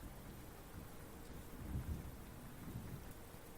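Heavy rain pours steadily in a dense, even hiss while low thunder rumbles softly beneath it, swelling briefly partway through, with no voices.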